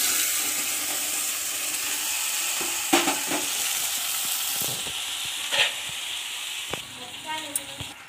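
Brinjal pieces with green chillies and ginger-garlic paste frying in oil on low flame, a steady soft sizzle with a few sharp scrapes of stirring spread through.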